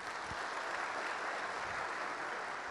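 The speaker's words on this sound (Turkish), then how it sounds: "Bir alkış istiyorum." Continuous crowd applause at a neighbourhood heads' meeting in Mersin, a dense, even wash of clapping from many hands across the whole moment.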